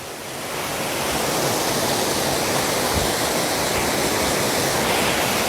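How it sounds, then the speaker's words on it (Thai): Steady, loud roar of rushing water from the sixth tier of the Nine-Tier Waterfall in Suan Phueng, Ratchaburi, Thailand, recorded up close as a continuous dense wash with no voices. "อันนี้เป็นน้ำตกชั้นที่หกแล้วนะคะ"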